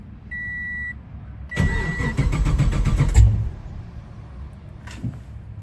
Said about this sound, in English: I didn't expect it to not start at all.